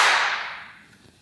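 A single guitar amp note rings out in a large meeting room with high ceilings, its loud attack fading over about a second into a long, washy reverberant tail, with no voices.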